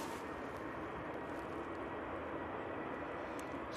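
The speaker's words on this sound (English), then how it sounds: "On finals, we have the Aer Lingus A330 in the old livery." An Aer Lingus Airbus A330 in old livery on final approach into Manchester from JFK, its engines a steady, even broadband roar held at a moderate distance, with no voices.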